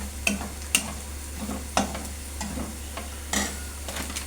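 Mutton keema fries in a pan as chili powder is stirred in, with a soft continuous sizzle broken by repeated scraping spoon strokes at an uneven rhythm, near and moderately quiet.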